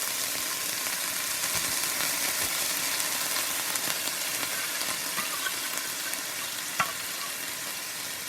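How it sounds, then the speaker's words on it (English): Onions sizzle steadily in a hot pan, a dense continuous fry at close range that stays even throughout, with a brief sharper crackle near the end and no voices. "onions that are already cooking"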